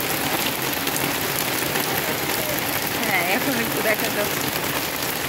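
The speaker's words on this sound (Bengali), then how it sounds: "জোরে হয়ে গেছে এবার বৃষ্টি" A heavy downpour pours down in a steady, close hiss, with a person talking briefly over the rain.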